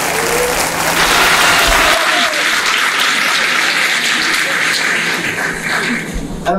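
A conference audience in Rennes breaks into sustained applause, dense clapping filling the room loudly and evenly for several seconds before thinning slightly toward the end.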